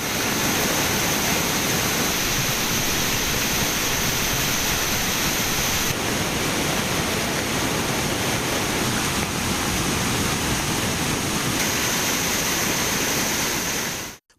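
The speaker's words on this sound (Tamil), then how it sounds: "தொடர் மழையால் திருப்பரப்பு அருவியில் தண்ணீர் ஆர்ப்பரித்து கொட்டியது" Thirparappu waterfall, swollen by continuous heavy rain, roars as a dense, unbroken wash of rushing water that fills the whole scene at a steady loud level and cuts off abruptly at the end.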